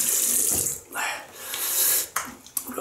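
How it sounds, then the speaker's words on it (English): Tap water running over a 1930s Gillette Long Comb double-edge razor as it is rinsed, splashing in uneven bursts with brief pauses and sharp clatters. "Just rinse off."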